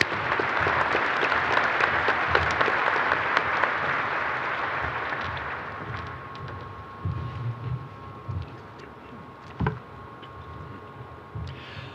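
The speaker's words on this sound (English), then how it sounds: "Ladies and gentlemen, one more round of applause for Dr. Mark Lewis." A graduation audience at an engineering and management school ceremony claps steadily in a large hall, loud and dense at first, then thinning out to scattered claps and room murmur.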